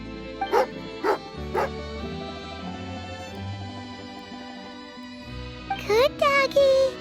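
A dog in the Genshin Impact video game gives a few sharp, spaced barks, then a quick burst of yipping near the end, over a soft musical backdrop.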